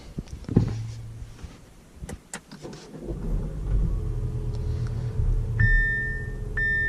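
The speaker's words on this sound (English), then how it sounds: "start stop button, and start the car, put the foot on the brake" A 2018 Audi Q5 2.0T's engine cranks via push-button start and catches, settling into a low steady idle close by, with a couple of electronic chimes beeping near the end.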